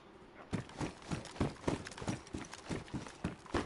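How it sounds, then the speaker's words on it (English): Footsteps in the DayZ video game approach as a steady, regular series of crunching steps, about three per second, moderately close and clear, with no talking. "I could hear the footsteps coming"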